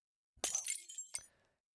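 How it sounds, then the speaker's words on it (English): A glass bottle smashes in the video game Warsim, one sharp, loud shatter followed by a short tinkling scatter of shards that quickly fades. "Gladiator gets smashed by a bottle thrown from the crowd"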